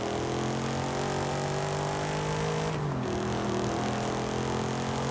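A new car's engine in Forza Horizon 5 on PS5 drones at a steady, loud pitch, dipping briefly as the revs drop and then picking back up, with no voices over it.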